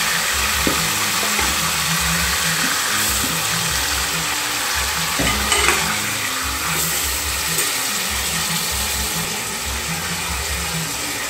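Chicken frying lightly in hot sesame oil inside a pressure cooker for a village-style chicken curry, giving a steady, close, fairly loud sizzle with bubbling and occasional knocks, and no voices.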